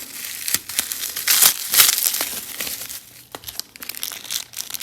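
Plastic packaging with tape and bubble wrap from minifigure parcels, crinkled and torn open by hand in loud close crackling bursts, with no talking.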